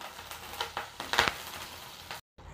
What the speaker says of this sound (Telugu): ఎండుమిరపకాయలు కూడా వేసుకొని ఫ్రై చేసుకొని కొంచెం కరివేపాకు వేసుకుందాం